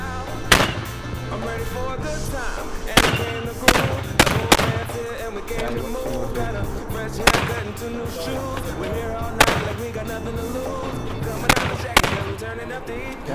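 Rapid handgun shots crack out at a practical shooting match, arriving as sharp, loud reports in uneven clusters over steady background noise and wind.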